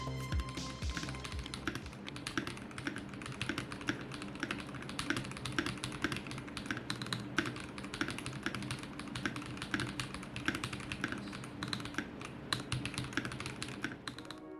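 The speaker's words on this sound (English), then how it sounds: "here's the typing sound." Fast, steady typing on a Vortex PC66 mechanical keyboard, a dense run of crisp key clicks and thocks up close, continuous for the whole stretch with no talking.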